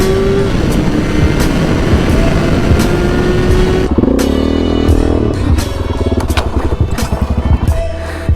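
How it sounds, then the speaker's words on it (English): A 1993 Jeep Wrangler YJ engine cold-starts and settles into a loud, rough idle with steady rumble and clatter that continues close by throughout, shifting tone partway through with brief metallic knocks. "every single video nowadays is gonna start with a cold start on my new to me 93 Wrangler YJ"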